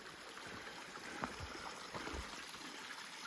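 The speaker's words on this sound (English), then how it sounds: "at least I get to hear the sound of running water" A faint stream runs steadily along a Virginia hiking trail, a soft continuous trickle and babble with a few small splashes.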